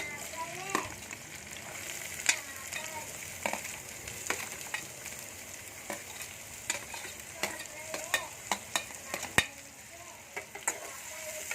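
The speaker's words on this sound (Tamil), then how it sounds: "வெங்காயம் வந்து நல்லா பொன்னிறமா ஆகணும்." Onion and green chillies fry in a pan for an egg bhurji, giving a steady sizzle broken by frequent sharp scraping clicks from stirring, close and moderately loud.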